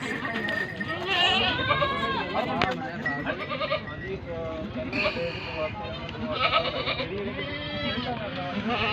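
Goats bleat repeatedly at close range amid a busy mix of voices talking over them.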